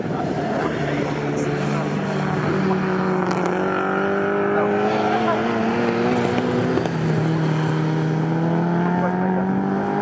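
A tiny Ginetta G4 classic race car with a sub-one-litre engine howls past at Snetterton, its engine note rising and falling through gear changes amid other traffic, loud and sustained over about ten seconds.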